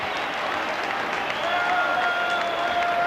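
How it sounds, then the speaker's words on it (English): A stadium crowd of Rangers fans cheering and applauding at a Rangers v Celtic football match as the League Cup is presented, a sustained roar with a faint whistle-like tone rising partway through. "A huge cheer going up from the Rangers fans."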